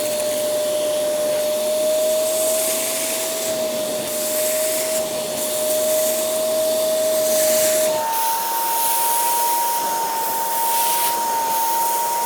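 A Kenmore SpotLite spot cleaner whirs loudly and continuously while lifting a cat hairball from carpet, its motor hum steady, then stepping up to a higher pitch partway through.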